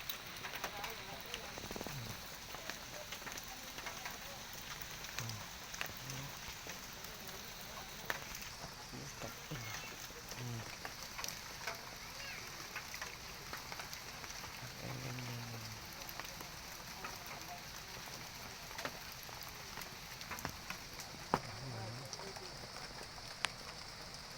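Steady rain falls and patters on surfaces as a dense, even hiss throughout, with a faint voice and occasional low sounds beneath it.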